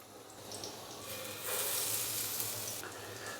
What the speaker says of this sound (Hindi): मैंने बड़ी एहतियात के साथ जो शामी कबाब हैं फ्राई होने के लिए डाल दिए हैं।